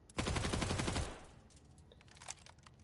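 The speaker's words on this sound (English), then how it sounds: "SMG sounds like this." An SMG in Borderlands 4 fires a rapid, close burst of about a second, followed by a fading tail and scattered mechanical clicks and faint game sounds.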